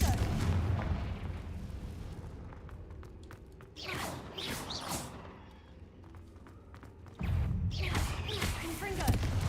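Confringo blasting spells in a Harry Potter game go off as booming explosions and thuds in clusters, loud bursts separated by quieter stretches, with a voice casting spells among them.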